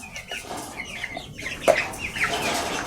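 Sasso chickens, 32 days old, clucking and chirping together in a farm coop, a steady busy chatter of overlapping calls with one sharper squawk, fairly close and without speech.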